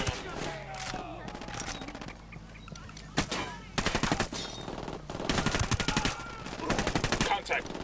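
Gunfire from an enemy sniper position in the shooter game Ghost Recon Wildlands comes as loud, sharp cracks and rapid bursts that repeat throughout, with some talk mixed in.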